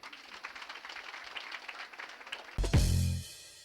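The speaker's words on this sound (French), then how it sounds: "c'est avec l'élève Kibé Aïcha en classe de terminale D que nous accueillons avec beaucoup d'applaudissements" A school audience at a municipal lycée event in Banfora applauds to welcome a student, giving a dense, steady patter of clapping that ends abruptly in a loud low thump and ringing buzz.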